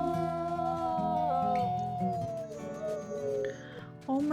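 Wolves of the Wildfire Pack in WolfQuest raise a drawn-out chorus of howls that slide and waver, with a few higher yips breaking in near the end over a low game backdrop.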